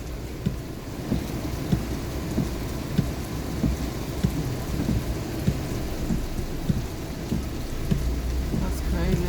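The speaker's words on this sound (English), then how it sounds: "Yeah, we got a lot of rain." Heavy rain pours steadily on surfaces nearby, a dense continuous hiss with occasional low rumbles.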